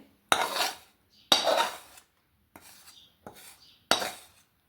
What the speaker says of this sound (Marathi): आता हे चक्कीचं सारण मी प्लेटमध्ये काढून घेत आहे